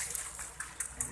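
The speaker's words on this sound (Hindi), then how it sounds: "देखें अच्छी सी जगह बनी हुई है फुवारा टाइप, यहाँ पे ये पानी निकल रहा है।" Water gushes from a public fountain in an outdoor square, a steady hissing flow with brief splashy bursts, fairly close and continuous.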